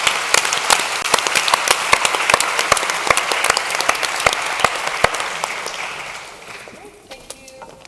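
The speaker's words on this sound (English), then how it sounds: "please, a big applause to this amazing panel and a great discussion" A conference audience applauds a panel discussion with dense, steady clapping that holds loud for several seconds, then thins out and fades into a few scattered claps near the end.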